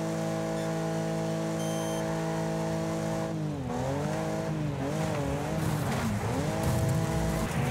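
Race car engine in Wreckfest holding a steady harmonic drone that wavers and bends mid-clip as the car slams into a truck, with scraping, skidding crash noise swelling toward the end; loud and continuous, no talk.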